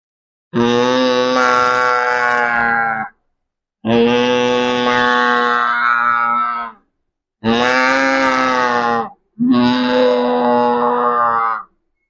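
A sixth-grade boy doing mimicry imitates a cow, letting out four long, loud lowing moos separated by short pauses.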